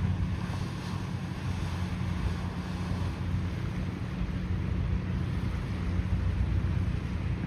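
Pumped water gushes out into Manila Bay in front of Dolomite Beach as a steady rushing wash, mixed with wind buffeting the microphone and no talking.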